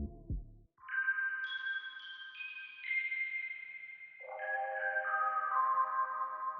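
A vintage one-shot synth sample with heavy reverb plays a short melodic phrase of sustained tonal notes that step up and then drop lower, each ringing into a long decay, after a brief low thump at the start.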